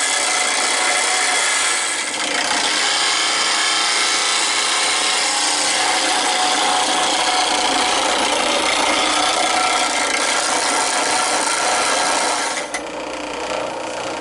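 A tool is ground against a spinning grinding wheel, throwing sparks, producing a loud, continuous harsh hiss and rasp close by that holds steady for most of the stretch before easing near the end.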